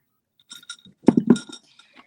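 Glasses of water clink together in a toast, a few bright close taps followed by a louder cluster of ringing clinks.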